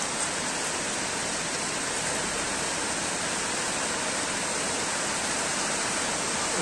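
Steady, dense rain patters on a tin roof, an even hiss-like rush with no pauses and no voices.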